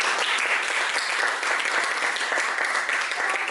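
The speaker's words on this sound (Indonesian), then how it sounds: "Tepuk tangan dong untuk kita." Steady, dense applause from a class of students during a teaching-practice lesson in Aceh, a continuous wash of clapping hands that holds evenly throughout without pauses.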